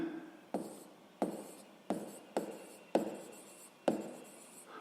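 A pen writes on paper in six quick, distinct strokes, close and quiet, each scratch starting sharply and trailing off, with near silence between them.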